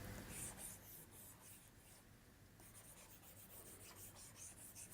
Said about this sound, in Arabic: لما تكتب عليه فعلا بيعطيك نفس الصوت اللي بتسمعه لما تكتب قلم رصاص على الورق